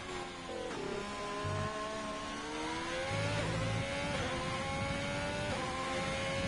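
Ferrari race car engine circulating a track, a continuous high revving drone that rises and dips through gear changes, loud and steady without a break.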